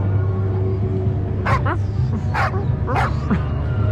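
A dog barks a few times in quick, sharp bursts, fairly close, over a constant low rumble of background noise, with a yip-like quality to some barks.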